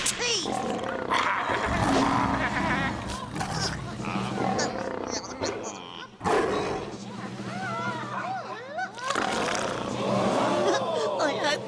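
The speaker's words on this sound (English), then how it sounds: "the king of the beasts, Leo the Lion" A cartoon lion roars loudly in a children's animated series set on the Serengeti, the roaring mixed with excited talking voices and music over about twelve seconds.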